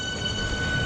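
A freight train rolls past at close range, a steady, loud rumble of rail wagons with wheel noise and a high metallic ringing, no voices.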